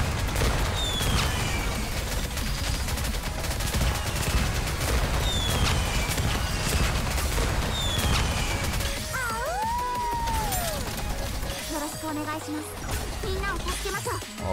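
Gunfire during a co-op boss fight in the video game Nikke, a dense, continuous barrage of shots and impacts layered with game effects, while a player talks over the action.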